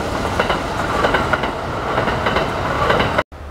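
Train passing close by in snow, a loud continuous rumble with rhythmic clickety-clack of wheels over rail joints, cut off sharply near the end.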